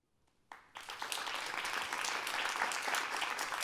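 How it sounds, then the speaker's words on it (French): An audience at a New Year greetings ceremony bursts into applause after a quiet moment, with the clapping building quickly and holding as a dense, steady roar. "Et vous avez raison de l'applaudir."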